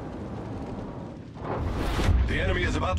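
Heavy battleship main-gun fire from World of Warships, a Tier 7 HMS Rooke: a deep, loud booming blast swells in after a rumbling lead-in, with voice callouts heard over the din.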